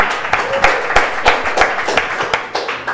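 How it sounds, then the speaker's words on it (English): A small podcast audience gives a brief round of applause for a fortune cookie handler, scattered close claps with sharp irregular hits over roughly three seconds, no voices. "Round of applause, guys."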